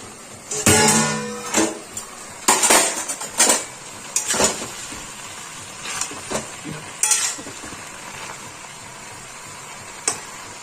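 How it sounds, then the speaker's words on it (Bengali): A cooking pan of puin shak and prawn chorchori being uncovered after five minutes, with a lid lifting off to a few sharp clanks and scrapes against the pan, followed by soft sizzling and intermittent metallic knocks, close and clear without talk. "এবার একটু ঢাকনাটা খুলে দেখি।"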